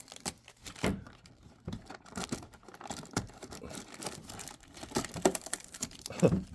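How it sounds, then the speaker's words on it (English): Close, soft crinkling and rustling of a plastic wrapper on a Pokémon advent calendar item, with a few sharp scissor snips and tearing sounds, uneven and fairly quiet. "I'm going to use scissors to free it."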